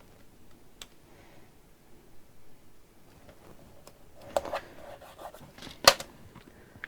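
Scissors cutting through craft material at a workbench, a few quiet snips and rubbing sounds scattered over low background hum, with a sharper cluster of cuts near the end.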